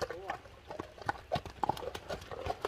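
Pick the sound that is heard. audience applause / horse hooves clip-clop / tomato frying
horse hooves clip-clop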